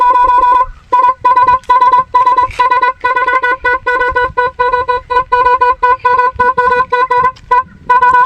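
Modified scooter horns blare in a loud, close, rapid string of short honks with brief gaps between them, producing a harsh, lorry-like, multi-tone blast.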